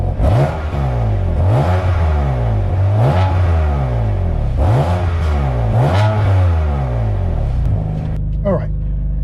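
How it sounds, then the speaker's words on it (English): BMW F82 M4 with the S55 engine, exhaust revving: roughly six sharp, loud rev blips in steady succession, each rising quickly and falling back, close up, ending with a short quieter tail. "we'll listen to the exhaust here"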